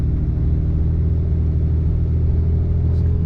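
A 2007.5 Cummins diesel pickup rolls along a rough road, a steady low engine and road rumble filling the cab close and loud, with no speech.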